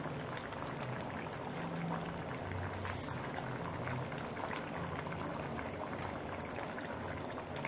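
Mutton korma with ginger-garlic paste and green chilies simmering in an Instant Pot as the last water cooks off, a steady close bubbling and sizzling that runs unbroken throughout.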